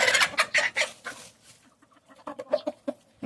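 Several 20-day-old Leghorn chickens cluck in quick, close bursts while scratching the ground, then softer scattered clucks follow after a brief lull.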